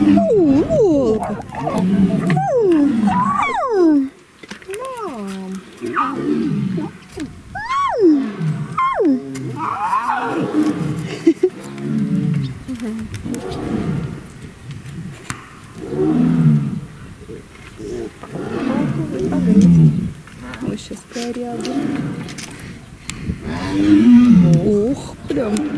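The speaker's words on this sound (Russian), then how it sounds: "Тигриные разговоры, серьезно." Tigers at the Taigan park roar and moan in long, rising and falling calls, loud and close, overlapping one another in repeated bursts with no pauses for long.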